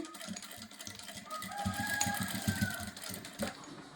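A sewing machine stitches a blouse, fixing hooks in place with short back-and-forth stitches. Its quick, rhythmic chatter runs steadily at close range with only a faint background murmur.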